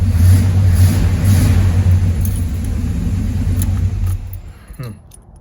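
A Chevrolet Monte Carlo engine idling with a loud, deep rumble up close, steady for about four seconds before dropping off sharply, with a few light metallic jingles near the end.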